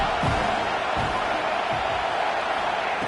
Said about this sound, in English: The crowd trying to make a difference here on fourth down.